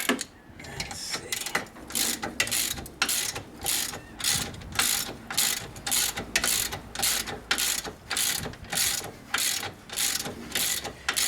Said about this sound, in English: now I'm using the bolts to pull it out